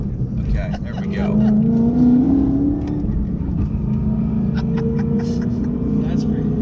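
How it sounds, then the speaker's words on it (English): A track car revs its engine with traction control off, its straight-cut-gear transmission adding a whine, loud and close as it pulls away and then holds a steady drone, with people talking over it. "This thing sounds good. yeah, it's got straight cut gears in the trans."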